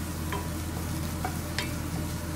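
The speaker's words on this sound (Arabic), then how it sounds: "حمست البصل مع فلفل بارد أحمر وأخضر، وبحط الحين الثوم" Chopped onion with red and green peppers sautéing in a pan as garlic goes in, for a Najdi qursan meat dish; a steady close sizzle with a few sharp stirring scrapes, no voices.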